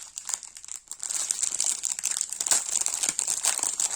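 Plastic bags of diamond painting drills crinkle and rustle close up as they are opened, a continuous bright crackling with small pops and bursts that fades only briefly near the start.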